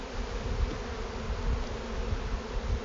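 Honeybees at the front entrance of a hive, mid-inspection, humming in a steady dense drone throughout, close and continuous with no voices.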